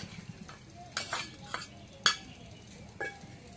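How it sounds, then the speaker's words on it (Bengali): Spices, salt, cumin paste and garlic paste being stirred in a cooking pot, with a few sharp scraping clinks of the spoon against the pot over a low background hiss. "এখন নাড়া দিয়ে দিই।"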